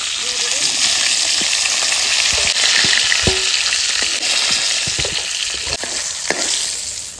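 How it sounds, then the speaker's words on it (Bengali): Fish, bighead carp, fries lightly in hot oil, a loud steady sizzle crackling close up, punctuated by scattered pops and clicks of a utensil against the pan. "মাছটা কড়া করে ভাজবো না একটু হালকা ভেজে নেবো"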